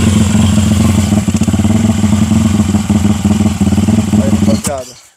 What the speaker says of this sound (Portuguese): É, motinha gira gostosa, né, Breno?